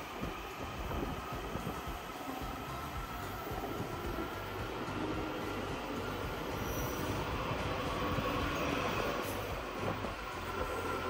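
A Kawasaki 7000 series metro train on the Washington Silver Line rumbling and rolling steadily into a station, with a constant roar of wheels on track and faint high squeals, no voices.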